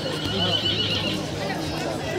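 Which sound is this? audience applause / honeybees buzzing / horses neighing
horses neighing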